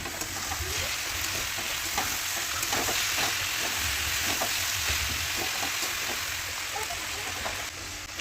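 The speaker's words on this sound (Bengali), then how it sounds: "ভাজাটা নেড়ে নিয়েছি, এখন আবার একটুখানি দিয়ে দেবো।" Food frying in oil with salt and turmeric, a steady close sizzle with scraping and tapping strokes from stirring scattered through it, loud and unbroken for the whole stretch.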